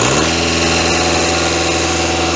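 Audi VAG engine rated around 190 horsepower, likely a faulty motor smoking from the oil filler and dipstick, held at high revs in a loud, steady, close roar that barely varies.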